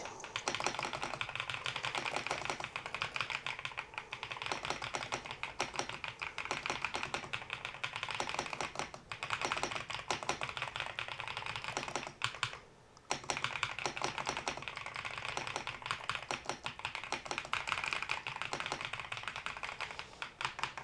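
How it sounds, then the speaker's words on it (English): Fast, continuous clicking of a computer keyboard as comments are typed into a chat, close and alone, with one brief pause near the end. "I'm just going to write some comments here in the chat for people who are arriving"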